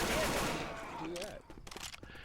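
Gunfire from a hunting rifle in Left 4 Dead 2, a quick burst of sharp shots at the start that trails off into scattered game noise and a few softer pops.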